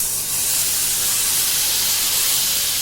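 Mustard seeds and cumin sizzle as a hot tempering is poured into pakora kadhi, giving a steady, loud hiss without pause and with no voices.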